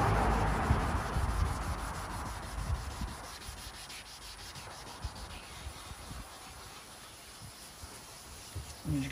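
A car headlight lens on a silver Corsa C being sanded by hand with folded sandpaper, a close, continuous rhythmic rasping rub that starts loud and eases slightly, with no talking over it.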